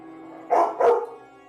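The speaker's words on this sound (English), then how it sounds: "There's a dog." Two quick dog barks from behind a door, fairly close and loud, over a quiet steady hum, with no other sound around them.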